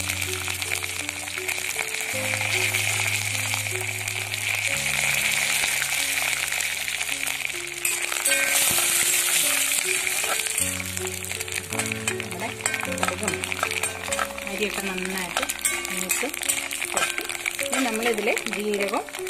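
Curry leaves and broken red chillies crackle in hot oil with mustard seeds and rice grains, a steady loud sizzle running throughout under a background of soft tonal music.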